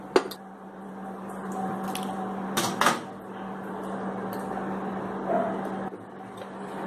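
A microwave oven door opens and clicks shut, with a bowl of mustard-oil-coated mourola fish set inside. A few sharp clunks and clicks sit over a steady low hum.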